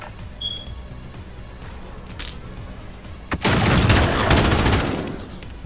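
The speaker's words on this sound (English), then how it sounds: "I'm just gonna shoot." An LMG fires in a Modern Warfare 3v3 gunfight: after a quiet stretch with a few faint clicks, one loud, rapid sustained burst of automatic gunfire runs for nearly two seconds before fading.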